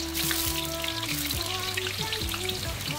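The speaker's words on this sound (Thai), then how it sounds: "เสร็จเรียบร้อยก็นำลงไปทอดกับน้ำมันท่วมๆนี่เลยแหละครับ" Tofu cut into pieces deep-frying in plenty of oil, a dense continuous sizzle and crackle with bubbling, loud and close throughout, with no talking.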